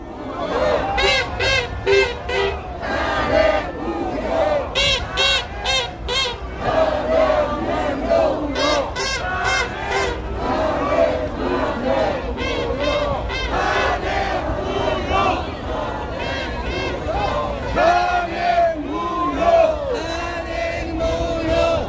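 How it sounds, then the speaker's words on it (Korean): A large crowd of young right-wing marchers parading through a city centre, shouting chants against an impeachment, loud and continuous with rhythmic massed voices rising and falling throughout. "탄핵 무효를 외치는 이 함성이 들리지 않습니까, 여러분들?"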